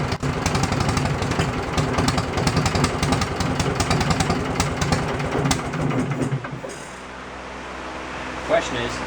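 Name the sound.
Wisconsin engine generator running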